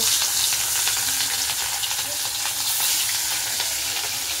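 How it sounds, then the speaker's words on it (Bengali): A piece of fish sizzles in hot oil, a loud, dense, continuous hiss with fine crackles running steadily throughout, no voices. "এরকম মাছটা দিয়ে দিলাম তেলে"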